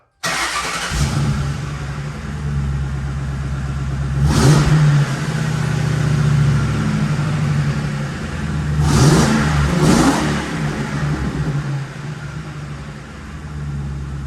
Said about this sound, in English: listen to what it sounds like right now, and then we'll be able to compare that to the Magnaflow system